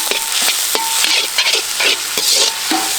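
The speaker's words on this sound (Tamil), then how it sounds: "இப்போ பொடிசா வெட்டி வச்ச சின்ன வெங்காயம் 400 கிராம்." Chopped shallots frying in hot sesame oil with ghee, a loud close sizzle broken by repeated scraping stirs of a spatula in the pan, with no voices.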